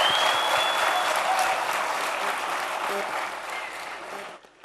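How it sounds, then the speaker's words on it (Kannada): A large audience applauds loudly at Sudeep's silver jubilee celebration, a dense, sustained burst of clapping that slowly thins and fades near the end. "ಇವ್ರಿಗೆಲ್ಲರಿಗೂ ನೀವೊಂದು ದೊಡ್ಡ ಚಪ್ಪಾಳೆಯನ್ನ ಕೊಡಬೇಕು"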